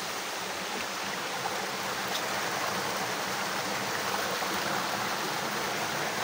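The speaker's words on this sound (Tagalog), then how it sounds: "Falls." Busay Falls roars as a steady, dense rush of falling water, loud and close, with no pauses or other sounds above it.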